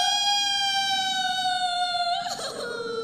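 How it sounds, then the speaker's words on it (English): A wailing siren used as a sound effect in a stage play, a steady high tone holding then dipping sharply near the end, clear and prominent with no talk over it. "Sounds like a siren."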